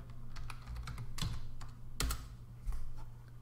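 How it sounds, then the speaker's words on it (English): Computer keyboard typing, a brisk run of clicky keystrokes with a few louder key hits, close and steady over a low background hum. "I type Magnify."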